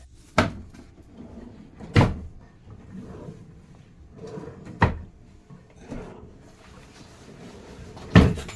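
Drawers in a cruise ship cabin are slid open and shut several times, giving sharp wooden knocks and thuds spaced a second or two apart with softer sliding rumbles between, close by and without talk.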